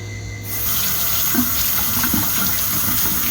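A kitchen tap turns on and runs steadily into a sink, with faint rubbing and splashing as sweet potatoes are washed under the stream.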